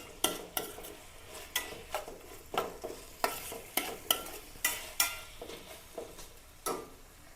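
Onions, green chilies, ginger and tomato sautéing in a pan, a spoon scraping and stirring in regular strokes over a soft, steady sizzle, close up with no talking.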